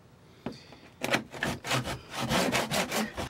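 A hand saw works through fiberglass while a built-in fridge is removed from an old sailboat, a few hesitant starts followed by steady rhythmic back-and-forth rasping strokes, close and fairly loud.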